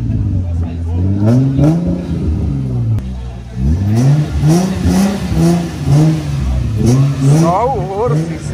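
A manual Nissan 350Z fitted with a large exhaust revs repeatedly up close, its loud engine note climbing and falling in a series of sharp blips at a fuel station.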